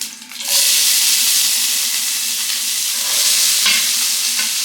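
Dry red chillies and onions sizzle in hot oil for an avalakki tempering, a loud, close and continuous frying hiss with occasional stirring.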